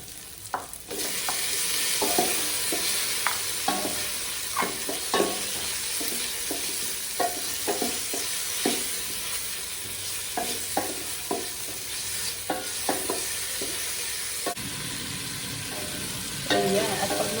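Fresh tomato sautés in a pan for pork pochero, a continuous moderate sizzle broken by frequent close spoon-scrape and stirring clicks, with no voices.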